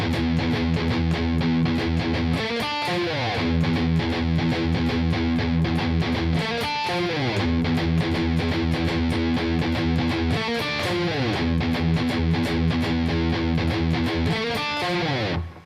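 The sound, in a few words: palm-muted distorted electric guitar riff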